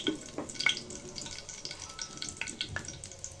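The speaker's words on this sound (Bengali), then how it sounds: "এলাচ দারচিনি লং গোলমরিচ দিয়ে জাস্ট তিরিশ সেকেন্ডের মতো ভেজে নিব" Whole cardamom, cinnamon, cloves and black peppercorns fry in hot oil at the start of a beef tripe bhuna, giving a soft, steady sizzle broken by light pops and scraping stirs, with no one talking.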